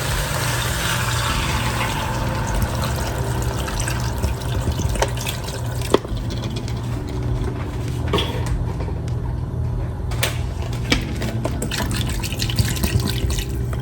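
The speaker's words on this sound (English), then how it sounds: "Now we're gonna go ahead and add water." Water pours steadily into a cooking pot that holds seasoned turkey wings, with garlic powder and red pepper flakes. It makes a continuous close-up running and splashing sound with a few small clinks along the way.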